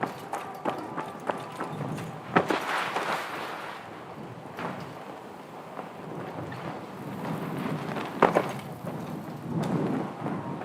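A thunderstorm rolls through the video game Arc Raiders, with rumbling thunder swells and steady rain hiss, a few sharper cracks standing out, while a person talks over it.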